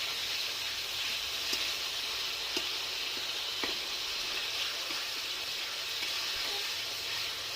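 Masala for a vegetarian mutton-style curry sautéing in a pan, with a loud, steady frying hiss throughout and a few faint taps of the spatula scraping through the spices; no talking.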